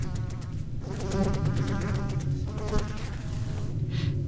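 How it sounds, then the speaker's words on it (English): Flies swarm in the video game Corpse Party: Book of Shadows, their buzzing wings droning constantly and close, with wavering pitch as individual insects seem to pass right by the ear. "The fly noises, they actually sound like they're beside me."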